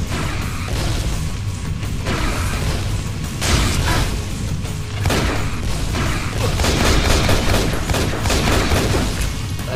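A rocket launcher fires in the shooter game Infernal inside the Grey Rock Refinery. Loud, dense blasts and booming bursts roll over one another almost without pause, with heavier impacts around the middle and end.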